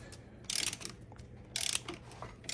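An impact wrench drives a bolt on a Melling high-volume oil pump being fitted to a Dodge Charger R/T engine, giving two short, sharp rattling bursts about a second apart over quiet garage background.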